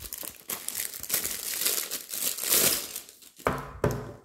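Plastic packaging crinkles and rustles as a Diamond Painting box is opened by hand, a continuous close crackling that swells and fades, ending in a couple of sharper handling knocks.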